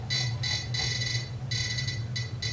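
Shrill electronic beeps from a KORAD KKG305D power supply sound in quick bursts, repeating irregularly over a low steady hum.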